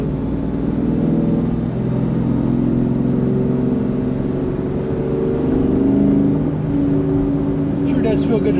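Ford Coyote V8 pickup truck driving, a steady low engine drone and road rumble holding constant throughout, close and continuous with no break.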